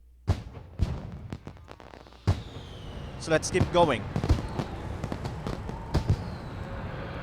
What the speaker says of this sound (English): Every time, resort hotel has a fireworks display.